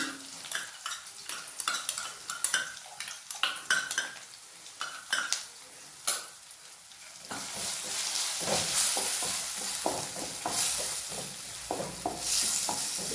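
Onions and soaked moong dal frying and being stirred in a pan, for a beans fry dish: a steady sizzle with repeated scraping and clinks of a spatula against the pan, close and continuous with no talking.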